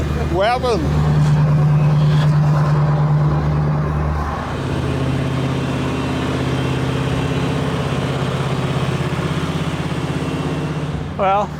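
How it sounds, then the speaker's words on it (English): A combine harvester's steady, low engine rumble idles throughout, loud and close, with a brief whistle-like sound at the start and end. "I can't actually hear you with that engine there"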